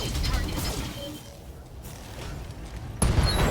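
Weapons fire from a precision shot in the BattleTech mech combat video game, a dense mechanical clatter of rapid impacts that dips briefly mid-clip, then hits hard again with a loud burst near the end.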